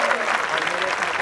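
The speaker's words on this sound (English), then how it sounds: "A big round of applause for all of them." An outdoor festival audience at the Asiatic Library steps in Kala Ghoda, Mumbai, claps in dense, sustained applause, loud and close, with voices mixed in among the crowd.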